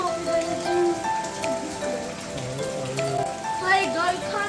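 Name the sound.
rain falling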